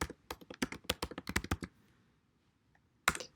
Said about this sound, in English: So I want them to type it in